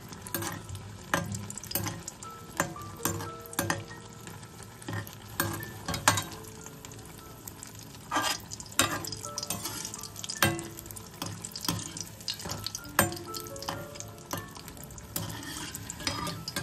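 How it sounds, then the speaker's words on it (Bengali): Battered fish frying in hot oil until golden, with a steady bubbling sizzle and frequent sharp clinks and scrapes of a utensil against the pan, close up and without talk. "এগুলোকে কিন্তু একটু গোল্ডেন করে ভাজতে হবে"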